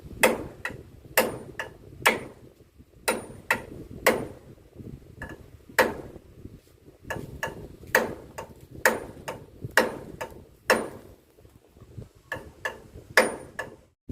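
Sharp, ringing knocks in short irregular bursts, like a hammer driving nails, close by and with no voices.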